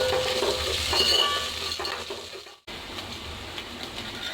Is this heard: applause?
no